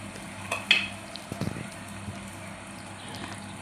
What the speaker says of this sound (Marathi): मीठ टाकून चांगलं वरखाली करून घेऊया कांद्याला। चांगलं परतून घेऊया मस्त कांदा।